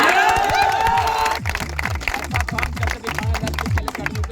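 Applause and cheering ring out for a record-setting run at a home guard physical test in Jehanabad, Bihar, with dense steady clapping over a thumping rhythmic beat and a lively crowd, voices mingling throughout.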